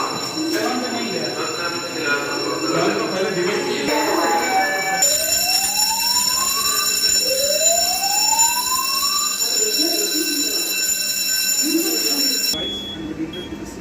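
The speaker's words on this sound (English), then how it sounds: "we needed to receive the alarm from the panel" An EST 3 panel fire alarm system sounds during a smoke detector test, a loud, continuous electronic tone with two rising sweeps in the middle, steady and close throughout with faint voices underneath.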